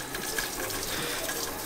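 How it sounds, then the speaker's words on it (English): Steady water spray rinsing gel cleaner off a car wheel, a loud continuous hiss of water striking metal, close up and unbroken. "Go and rinse it off"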